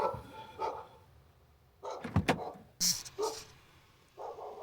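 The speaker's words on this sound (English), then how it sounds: "Do you hear that? I can hear a dog." A dog barks a few times in short bursts somewhere nearby at night, sharp and separated by quiet gaps, with faint background noise between.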